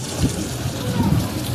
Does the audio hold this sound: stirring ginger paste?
no